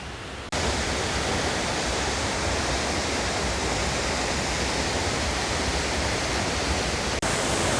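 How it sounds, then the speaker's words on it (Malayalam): The Kappimala waterfall near Alakode, Kannur, heard from close to its base, rushes in a loud, steady broadband roar that starts abruptly and continues without pause. "അങ്ങനെ വെള്ളച്ചാട്ടത്തിൻ്റെ ഏകദേശം അടിയിലെത്തിയിട്ടുണ്ട്"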